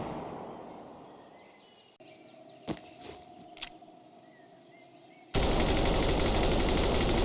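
K461 5.56 rifle firing in Road To Vostok, a few sharp shots over quiet ambience followed by an abrupt loud stretch of rapid automatic fire.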